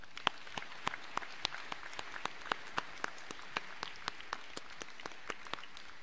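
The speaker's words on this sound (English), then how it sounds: "a round of applause for our town" A thin, sparse applause from a small crowd, individual claps spaced out and fairly distant, with no voices over it.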